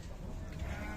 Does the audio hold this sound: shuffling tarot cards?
no